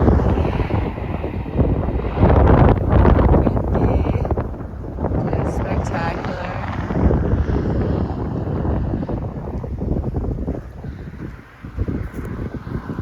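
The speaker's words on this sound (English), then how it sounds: "Windy." Gusty mountain wind buffets the microphone with a steady low roar, while a person speaks briefly over it.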